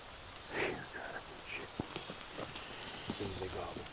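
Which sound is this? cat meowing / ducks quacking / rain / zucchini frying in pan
rain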